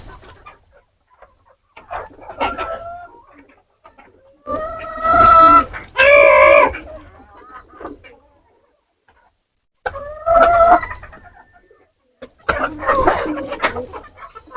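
Chickens cluck and call in loud, drawn-out bursts separated by quiet gaps, close by in a farmyard, with softer clucks in between.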